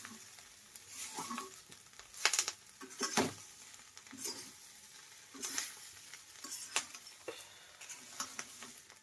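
Curry leaves, garlic and cumin fry in hot oil for a red chutney, a quiet crackling sizzle broken by repeated stirring scrapes and clinks of a spoon against the pan, close and fairly soft.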